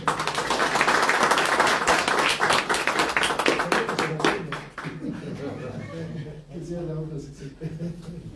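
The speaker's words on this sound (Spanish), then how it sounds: "pido un gran voto de aplauso" Loud audience applause at a panel forum in Cusco, with dense clapping that fades after a few seconds, followed by people talking.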